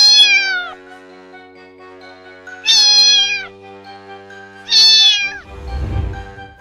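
A domestic cat meows three times, long drawn-out tonal cries spaced about two seconds apart, close and clear, followed by a brief soft low rustle.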